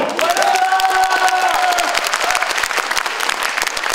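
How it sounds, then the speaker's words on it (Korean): A crowd at a provincial governor candidates' debate breaks into loud, sustained applause, dense clapping with some cheering and a brief voice rising over it early on. "여러분 동의하시면 박수 한번 주십시오."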